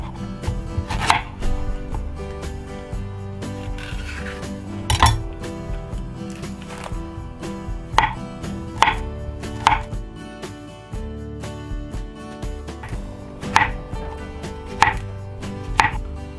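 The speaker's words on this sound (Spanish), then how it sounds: "Ahora vamos a cortar las bananas en rodajitas." A knife slices bananas into rounds on a board, producing crisp, evenly spaced chopping taps at close range, with a faint rattle of dishes between strokes and no one speaking.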